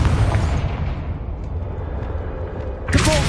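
Explosion from a Confringo blasting spell in Hogwarts Legacy: a loud, deep, rumbling boom that fades over a few seconds, followed by a sharp new burst near the end.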